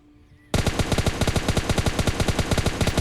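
Rapid automatic M4 rifle fire in the mobile battle-royale game PUBG Mobile Lite, a sudden loud burst of evenly spaced shots continuing for about two and a half seconds with no talk.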